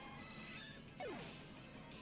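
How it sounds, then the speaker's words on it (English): Charizard X slashing with a claw attack and smashing its target in a Pokemon Ultra Moon singles battle, a short whooshing sweep that drops in pitch and rises to a brief loud crash over steady game audio. "A nice claw tearing into it, breaking its eggs, and smashing it down."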